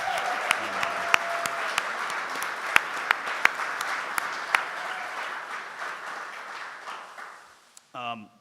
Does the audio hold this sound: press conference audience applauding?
yes